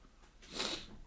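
A single sneeze bursts out around the middle, a short breathy, hissy snort rising and fading within about a second, fairly quiet with nobody talking.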